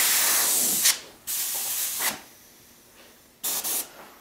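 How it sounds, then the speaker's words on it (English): Airbrush spraying paint onto a chainsaw carving: close, steady hissing bursts that stop and restart several times, with short quiet gaps between sprays. "Now my airbrush is not being quite so good."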